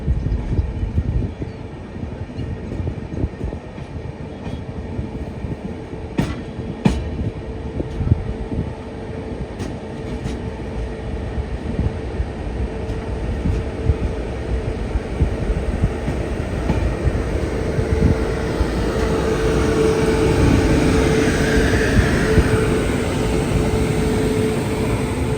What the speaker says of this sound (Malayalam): 7:31 ട്രെയിൻ ഇത് ദ്വാരക സ്റ്റേഷനിലേക്ക് എത്തിക്കൊണ്ടിരിക്കുകയാണ്.